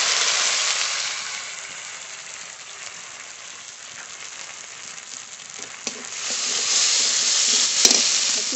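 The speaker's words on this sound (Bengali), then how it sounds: "মশলা খুব ভালো করে কষিয়ে নিয়েছি।" Mustard and poppy seed spice paste with ginger, coriander, cumin and dried chili fries steadily in oil in a pan, a continuous close sizzle that swells louder near the end with a brief sharp crackle.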